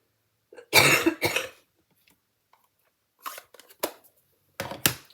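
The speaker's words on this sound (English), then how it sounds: "if I have another coughing fit, I'm going to turn it off" Several harsh coughs burst out close by, a loud pair first and then a scattered run of shorter coughs after a brief pause.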